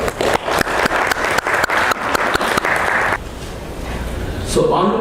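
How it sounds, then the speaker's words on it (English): Audience applause welcoming Narendra Kumar, Chairman of CII Andhra Pradesh, at a CII Partner Summit roadshow event in South Korea; sharp claps ring out for about three seconds, then fade into a low room murmur. "Please welcome him with one round of applause."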